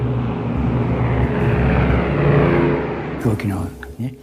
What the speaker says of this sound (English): The two planes immediately turn to escape the blast.